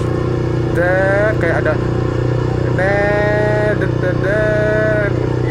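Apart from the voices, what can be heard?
Yamaha R15 V3 motorcycle engine being revved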